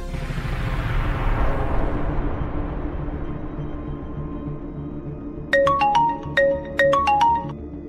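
A telephone ringtone in a Bengali TV drama set around a hospital rings in repeated electronic trills in the second half, clear and close over a low background hum.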